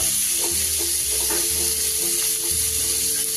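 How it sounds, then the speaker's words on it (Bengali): Chicken pieces for restaurant-style pakoda stirred in spices in a pan, a steady loud sizzle of frying with rhythmic scraping strokes of stirring throughout, no talking. "এইভাবে মশলার সাথে নেড়ে নেব"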